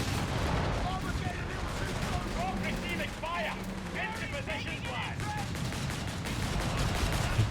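Gunfire, explosions and a tank's main gun hammer away in a dense, continuous battle in Company of Heroes 3, with mechanical and voice-like chatter through the mix.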